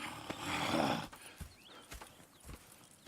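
Horses in Red Dead Redemption 2 snort and whinny, followed by scattered hoof clops and shuffling, faint and close.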